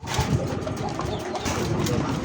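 Pigeons at a pigeon sale coo in a steady, dense murmur throughout, with the hubbub of the market behind them and no clear speech.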